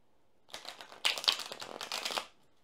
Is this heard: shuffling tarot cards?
yes